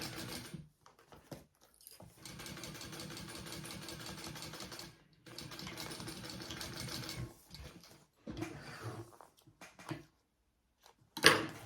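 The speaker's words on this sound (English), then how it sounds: "So I'm going to go ahead and sew all 4 darts together." A sewing machine stitches the darts of a Sequoia handbag in several steady bursts, pausing between runs and ending with a brief clatter.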